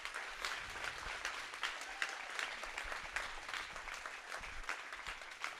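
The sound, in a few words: audience applauding the Poitiers team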